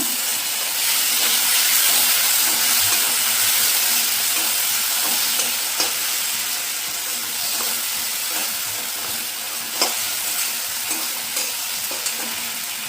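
Tomatoes and ground cumin are stirred into a Bengali-style rohu fish curry in a pan. A continuous close sizzle and hiss plays with occasional scrapes and knocks of the spoon against the pan.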